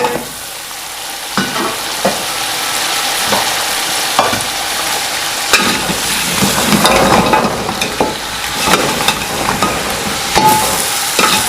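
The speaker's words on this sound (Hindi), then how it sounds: "चार से 5 मिनट के लिए इनको भूनना है अच्छी तरह।" Beef trotters frying with yogurt in a pot for Pakistani paya, a loud dense sizzle broken by repeated ladle scrapes and knocks against the pot, close up with no voices.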